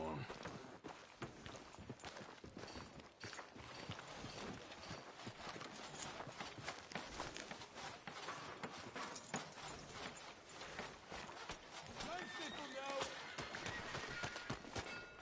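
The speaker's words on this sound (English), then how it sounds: "Tether the horse and I'll meet you across the street." Horse hooves clip-clopping in the Red Dead Redemption 2 video game, a steady run of hoof beats over a busy mix of ambient game sound, with a voice talking throughout.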